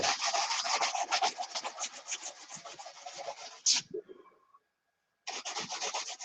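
Hand rubbing and sanding along the sharp edge of a fiberglass mold jacket in a workshop, a steady close scraping rhythm that breaks off into near silence before the rubbing starts up again.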